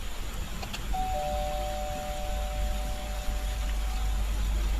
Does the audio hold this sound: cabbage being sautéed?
no